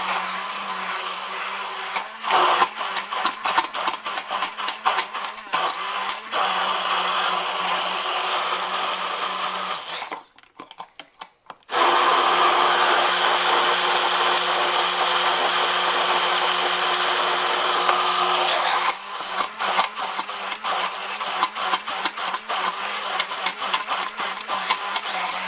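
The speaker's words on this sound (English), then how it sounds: "And you can use a blender for this, food processor." A food processor making mayonnaise whirs loudly with a pulsing, chopping texture, stops briefly midway, then starts up again and keeps running.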